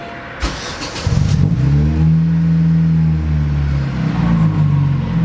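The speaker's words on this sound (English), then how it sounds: "let me turn the car all the way on" A car engine cranks and catches, then settles into a steady idle with a brief rev, close and loud with no voices.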